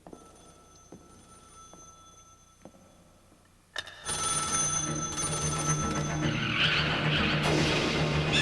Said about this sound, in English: My reverie was disturbed by the sound of a telephone ringing in the cave